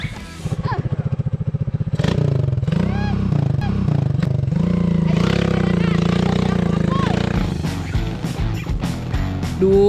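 A mountain motorcycle carrying a passenger, an older woman, runs steadily with its engine droning and rumbling throughout, while people talk over it.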